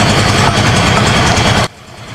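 A 2024 Yamaha Fascino 125 BS6 scooter engine runs with a loud, close, steady throbbing hum that cuts off abruptly after about a second and a half, leaving a quieter background.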